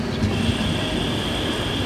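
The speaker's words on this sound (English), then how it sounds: "I arrived at the Rotterdam train station quite early in the morning" Train at Rotterdam railway station on a busy early morning: a steady, fairly loud rumble of rail traffic and station ambience that holds evenly throughout, with no voices.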